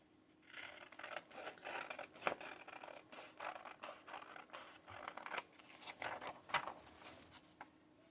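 Scissors snip through paper while cutting junk journal pages, quiet close strokes in an uneven series of separate cuts with soft rustling between them.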